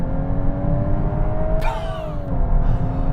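A Volkswagen Golf R launching hard with launch control, its engine droning loud and steady from inside the cabin, the pitch climbing then dropping briefly at a gear change before pulling on.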